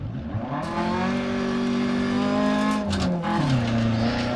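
A rally car in DiRT Rally, driven with an H-shifter and clutch after stalling, restarts and revs, a loud close engine drone rising and falling in pitch with a brief gravelly scrape midway.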